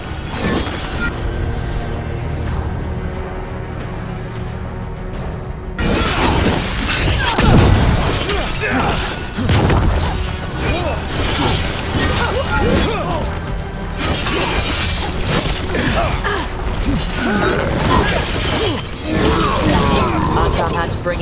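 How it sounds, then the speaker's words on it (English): Mortar fire in the fantasy action game Dragon Age: The Veilguard, with booming explosions and shattering crashes amid loud battle noise and music, while voices talk over the fighting. "They've got mortars!"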